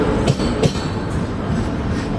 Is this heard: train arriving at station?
yes